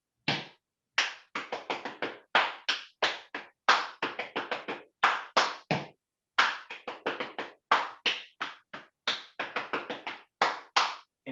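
Quick rhythmic body percussion in a pity-pat pattern, hands patting and clapping in crisp bursts with short pauses between phrases, close and loud with no talking.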